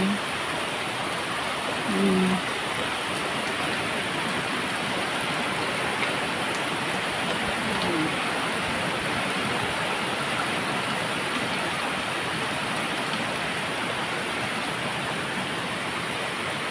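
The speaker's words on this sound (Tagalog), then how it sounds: "Sa wakas maulan na rin" Steady, dense rainfall hisses evenly throughout, a constant wash of drops with a faint brief tone near the start.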